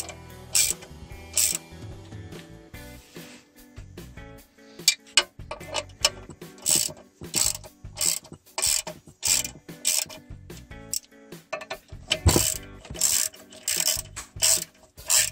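A ratchet clicks steadily and rapidly up close as it tightens the transmission bolts on a Toyota Echo during a clutch and gearbox install, with brief pauses between runs of clicks and no talking.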